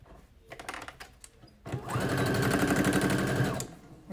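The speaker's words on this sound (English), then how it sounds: "I'm going to sew that top part in" A sewing machine stitches the top edge of a reusable fabric face mask with a filter pocket, a close, rapid mechanical whir lasting about two seconds after some soft handling noises.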